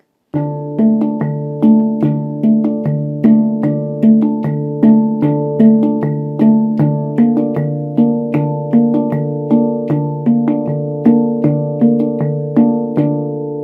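A handpan plays a quick, steady repeating pattern of ringing metallic notes, evenly spaced strikes continuing throughout with no voices.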